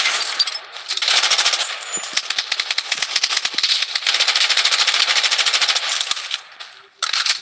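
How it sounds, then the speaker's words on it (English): An automated defensive turret in the shooter game Blood Strike fires in long rapid bursts, a dense crackling chatter of shots that runs loud and close for several seconds and breaks off briefly near the end. "Defensive turret activated."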